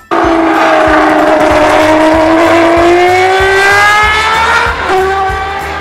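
A high-revving Matra V12 racing engine sings loud and close, its pitch climbing smoothly and steadily over several seconds before easing slightly near the end.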